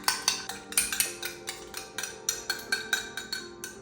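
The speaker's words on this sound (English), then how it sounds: "Whisk the eggs real quick" Eggs whisked in a bowl while making homemade dog treats, a quick run of light, even metallic taps and scrapes close up with no talking.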